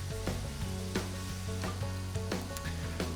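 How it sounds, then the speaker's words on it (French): Lobster claws and tails sizzle steadily in butter in a pan, a continuous frying hiss with soft stirring taps, heard under rhythmic background music. "un petit peu de beurre dans un poêlon pour réchauffer le homard"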